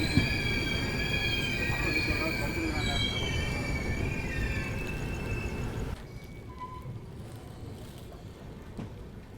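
A train pulls into Salem Junction station with long high-pitched squeals from the wheels over a low rolling rumble, the squealing stopping abruptly near the end while the rumble keeps going.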